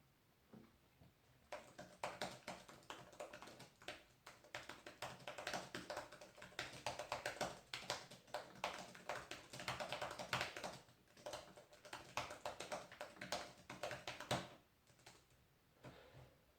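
A Surface Pro 3 Type Cover keyboard is typed on near the microphone, giving a rapid, continuous patter of soft key taps for about thirteen seconds, then quiet.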